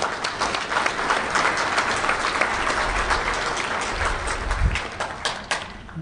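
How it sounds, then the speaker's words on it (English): Applause from a conference audience at a hacker security convention, steady dense clapping filling the room for several seconds at close range. "So if we could just like clap for Artem right now"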